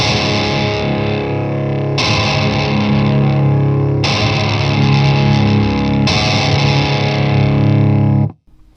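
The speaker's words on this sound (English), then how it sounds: "It's just kind of like this more extended out power chord" Four heavily distorted electric guitar power chords ring out one after another, each sustained for about two seconds, loud and thick, ending abruptly.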